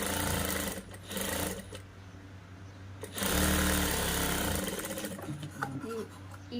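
A sewing machine runs in fast, rattling bursts while stitching a blouse sleeve joint, starting and stopping several times with short pauses, nearby and moderately loud.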